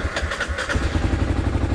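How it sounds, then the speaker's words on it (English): A motorbike engine turns over and sputters in an attempt to start, giving a loud, close, uneven chugging rumble throughout. "If my bike starts."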